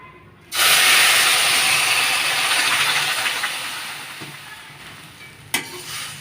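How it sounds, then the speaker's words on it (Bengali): Milk hits hot, fried vermicelli in a pan, setting off a sudden loud hiss and sizzle that slowly fades, with a small clink near the end. "এবার আমি এর মধ্যে দুধটা দিয়ে দেবো।"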